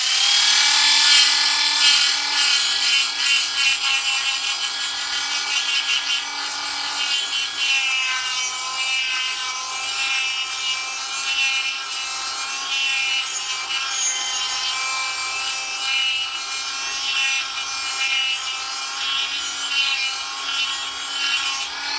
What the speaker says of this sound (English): Just take the little cutoff wheel